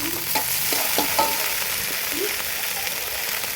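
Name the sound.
sliced corn being added to a pan and stirred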